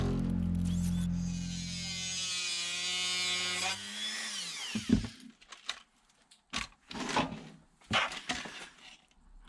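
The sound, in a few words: trimming RC car body parts with a power tool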